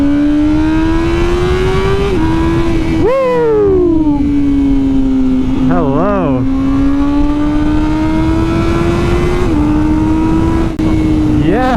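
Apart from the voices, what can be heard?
Honda CBR1000RR-R Fireblade SP motorcycle engine while riding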